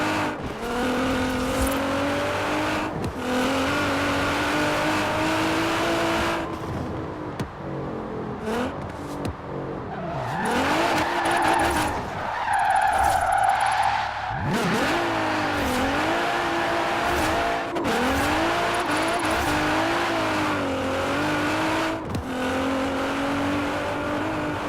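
Car drifting in the racing game Forza Horizon 4, engine revving up and down in long sweeps with tire squeal layered over it, loud and continuous, with short lifts and gear changes.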